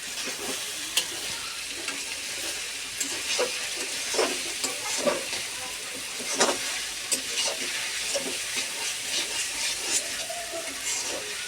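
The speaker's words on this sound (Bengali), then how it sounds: "কিছুক্ষণ নেড়ে নেব এভাবে" Okra frying in a pan sizzles steadily while a spatula stirs and scrapes through it, with soft irregular clicks and scrapes over a constant close hiss of hot oil.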